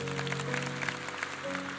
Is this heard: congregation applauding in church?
yes